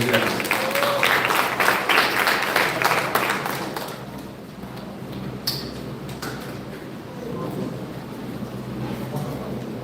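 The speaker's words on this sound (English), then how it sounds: "Make him welcome with a round of applause, ladies and gentlemen." Award ceremony audience claps in welcome for an essay competition chairman, a dense burst of applause that thins out after a few seconds into scattered claps and room noise.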